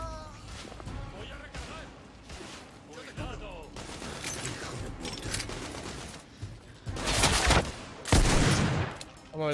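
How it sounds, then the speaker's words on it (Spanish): Rapid bursts of gunfire in the video game The Order: 1886 crackle and pop in uneven volleys, growing louder toward the end, mixed with game sound effects and mechanical clatter. "Que veo tiros, pero no sé dónde vienen, tío."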